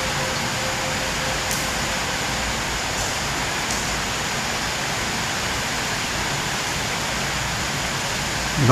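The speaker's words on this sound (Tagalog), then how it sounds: "Lakas ng ulan" Heavy rain pours down in a dense, constant roar, steady and loud throughout, with a couple of faint high clinks near the start.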